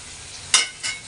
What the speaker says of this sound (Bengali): পনিরটা ভাজা বসিয়েছি